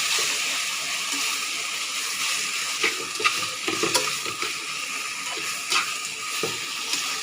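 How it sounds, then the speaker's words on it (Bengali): Grated pineapple sizzling in a pan of hot mustard-seed tempering, a steady close fizz with scattered stirring scrapes and small pops throughout. "এবারে দেব আমি আনারস, যেটা আমি গ্রেট করে রেখে দিয়েছি।"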